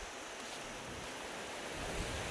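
Ocean surf rolls steadily at the seashore, a continuous broadband wash of breaking waves with some wind rumble, no voices present.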